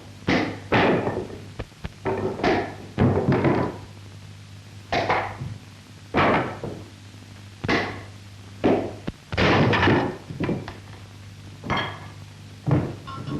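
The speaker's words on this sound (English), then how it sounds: "one of the tests of proficiency consists of breaking 3 one-inch boards with the fist or feet, or cracking 10 pieces of slate with one blow" Karate strikes break one-inch boards or slate in a series of sharp, loud cracks and thuds, arriving in irregular bursts several seconds apart over a constant low hum, with no talking.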